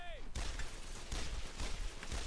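Enemy fire in the PS2 shooter Brothers in Arms crackles as dense, continuous bursts after a short opening tone, loud and close, with shouting voices mixed in.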